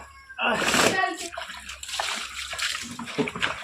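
Clothes are washed by hand in a tub of water, with splashing, sloshing and wringing that runs almost continuously, loudest near the start, while people talk nearby.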